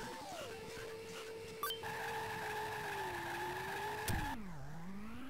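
Tiny toy race cars in the Micro Machines 2: Turbo Tournament video game, convertibles sliding with loose handling, give a steady buzzing engine whine that drops in pitch and then swoops back up through a long skid, close and continuous without speech.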